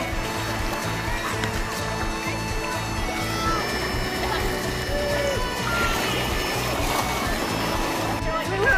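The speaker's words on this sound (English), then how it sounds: "The white water." A small boat runs through rushing white water on a Canada Day camping trip, with loud, continuous splashing and churning water and people talking and shouting over it.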